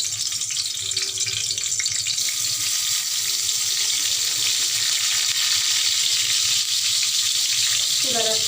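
Spiced eggplant slices frying in hot oil, a steady close hiss and sizzle that runs through the whole clip, with a faint clink near the end.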